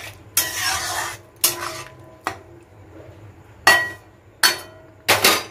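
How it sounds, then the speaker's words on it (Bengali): Boiled chana dal being mixed into cooked masala in a pan, a vegetarian coconut chholar dal preparation: a handful of sharp spoon-on-pan scrapes and clanks in irregular bursts over a low background hum, close and fairly loud, with no talking. "এই যে ছোলার ডালটা যে সেদ্ধ করে রেখেছিলাম ওটা দিয়ে দেবো, দিয়ে ভালো করে এবারে মেশাবো"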